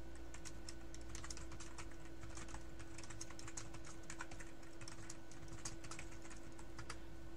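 Steady, fast typing on a computer keyboard, a dense run of close keystroke clicks over a constant low electrical hum, with no talking.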